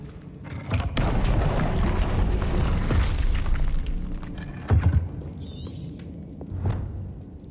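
A fire spell cast in Hogwarts Legacy bursts into a loud, sustained whooshing blaze that roars for a few seconds, fades, then gives a couple of short thumping flares near the end.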